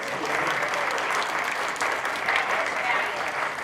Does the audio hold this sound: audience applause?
yes